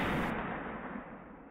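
A single sharp report from an AR-15 5.56 rifle fitted with a custom muzzle brake, fired outdoors, cracks loudly at the start and then rumbles away as it fades.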